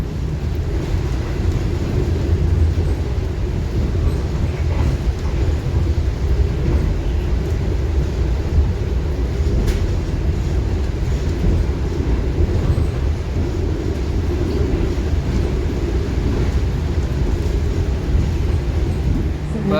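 Steady low rumble of the Sancaka train's stainless steel carriages running along the track, heard from inside as a constant, even roar throughout with no distinct clacks.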